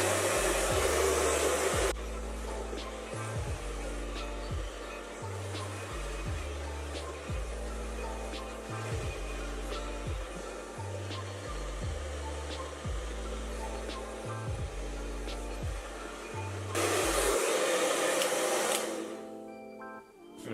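A hair dryer on medium heat blows on wet wavy hair, a loud, steady close-up roar that runs almost the whole time with a faint rhythmic low pulse beneath it.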